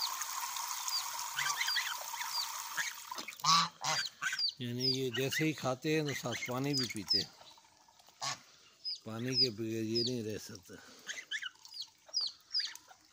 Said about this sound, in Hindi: बतख बड़े शौक से खा रही है और मुर्गियाँ